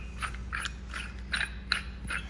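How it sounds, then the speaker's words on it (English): A metal ball finial is screwed onto the top of a 30-foot flagpole, producing a series of short, quiet ratcheting clicks and scrapes in a steady rhythm, close by with no voices. "We're going to put the ball on the top. You just screw that in."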